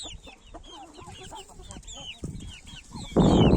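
A broody Indian breed hen clucks in a coop, repeated throaty clucks and chirpy calls close by, ending in a sudden loud rustling burst.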